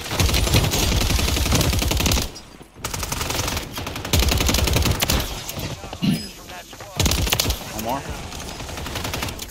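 Rapid bursts of video game gunfire in a battle royale match, loud automatic volleys separated by short pauses, with players talking over the shooting.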